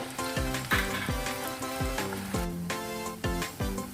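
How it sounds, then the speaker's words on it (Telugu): Pieces of elephant foot yam deep frying in hot oil, a steady bubbling crackle with a recurring low thump roughly every half second, fairly close and continuous, no talk. "ఇలా వేసి బాగా డీప్ ఫ్రై అయ్యే వరకు ఉంచుదాం"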